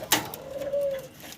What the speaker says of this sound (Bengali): এখানে 3 পিস কবুতর একসাথে দেখাচ্ছি আপনাদেরকে